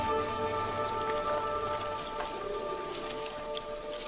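Tropical rain on Christmas Island falling on the ground, a dense, steady patter of close drops throughout, with faint sustained tones in the background.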